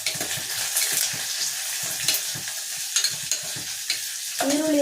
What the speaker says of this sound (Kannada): ಈರುಳ್ಳಿನ ಸ್ವಲ್ಪ ಚೆನ್ನಾಗಿ ಬೇಯಿಸ್ಕೋಬೇಕು ಒಗ್ಗರಣೆಯಲ್ಲಿ